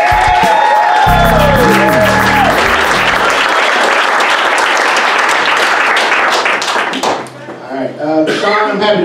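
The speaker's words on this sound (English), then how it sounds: "Y'all make some noise for Sean Smith" A live comedy-show crowd at The Bardstown applauds and cheers as a comedian is brought to the stage, with dense sustained clapping and whoops, a voice speaking over the start, tapering briefly before a final burst.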